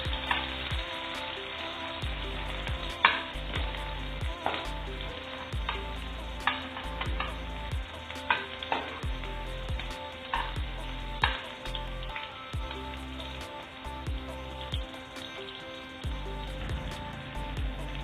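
Onions and chillies fry in a pan with a steady, close sizzle, broken by occasional sharp stirring clatters and spikes while the cooking carries on without a break; no one speaks.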